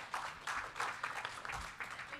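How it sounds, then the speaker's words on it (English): Light, uneven clapping from a modest audience at a conference paper session, moderately distant and fairly soft, lasting about two seconds. "So another round of applause for Renee, please."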